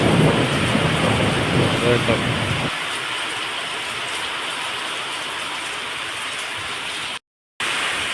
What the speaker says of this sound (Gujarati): વરસાદ 3 વખત ચાલુ થઈ જાય.